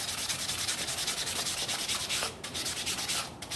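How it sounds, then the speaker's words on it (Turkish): Sandpaper rubs steadily over a part during heavy maintenance of a Yamaha Delight 125 scooter, a close, even rasping in quick repeated strokes with no talk. "Zımparalama işlemi."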